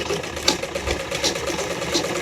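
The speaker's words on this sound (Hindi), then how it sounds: "चाहें तो 2-3 पॉइंट की दूरी पर एक और सिलाई लगाएंगे" A sewing machine runs steadily while stitching a seam on a suit, its close, even mechanical whir and needle chatter continuing throughout without talking.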